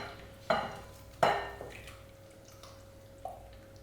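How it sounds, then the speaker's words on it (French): Potatoes being mixed in a bowl for a Spanish tortilla with onion: a few soft, wet clatters and scrapes come at irregular intervals, faint and close up, with a quiet steady hum behind them. "on va mélanger les pommes de terre directement là-dedans"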